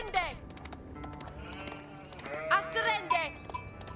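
Sheep in the strategy game Age of Empires IV bleat several times in short wavering calls, with soft game effects underneath and someone talking over them.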